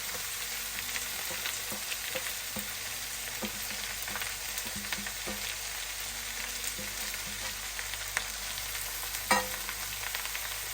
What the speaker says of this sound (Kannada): ಸ್ವಲ್ಪ ಉಪ್ಪು ಹಾಕಿ ಪುನಃ ಮಿಕ್ಸ್ ಮಾಡಿದರೆ ಆಯಿತು